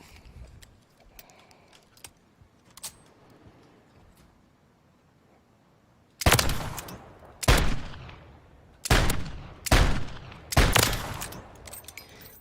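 Basilisk gun firing on the range in Modern Warfare 3: after quiet mechanical clicks and handling sounds, five loud, sharp shots ring out about a second apart, each with a short decaying tail.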